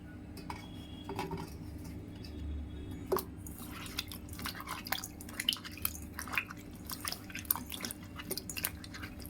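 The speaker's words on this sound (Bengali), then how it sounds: "এই শোলা কচুটা যে কেটে নিয়েছি সেটাকে ভালো করে কয়েকবার ধুয়ে নিই" Chopped taro being rinsed in water several times in a home kitchen, giving irregular drips, splashes and clinks of a pot or bowl at close range with no talk.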